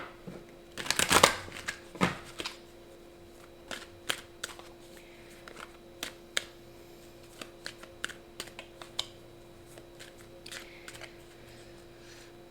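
Tarot cards are shuffled for a reading: a burst of riffling and flicking near the start, then sparse light card taps and clicks over a steady faint hum, close and quiet with no talk.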